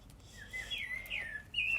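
A pet bird chirps indoors in a quiet room, giving a few thin, high tweets and whistled calls that rise and fall in a short, faint burst, ending on a sharper note.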